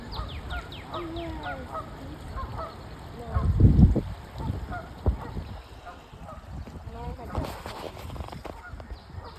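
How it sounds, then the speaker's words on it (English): A group of geese honk outdoors on a nature walk, with several close, nasal calls in the opening seconds, then footsteps, rustling and quieter honks mixed with faint voices. "Goose. Geese. There's more than one."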